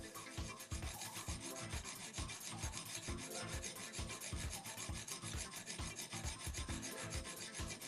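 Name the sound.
knife blade being sharpened to raise a burr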